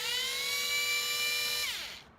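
A power drill spins at its slowest setting, a steady high whine held close and alone for about a second and a half before winding down and cutting off.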